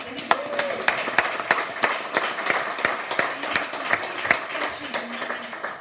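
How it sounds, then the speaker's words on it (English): Applause from the audience at a morning wellness panel session, a dense patter of clapping with some sharper individual claps standing out, mixed with murmuring voices and a faint tone in the background. "let's give them a round of applause."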